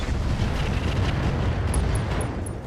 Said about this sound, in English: And hey, we got the ammo explosion.